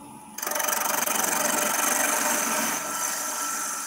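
Wood lathe making a turning cut on a wooden race car toy, a steady loud scraping hiss of the tool against spinning wood that starts abruptly and holds with a rapid fluttering texture, slightly easing near the end.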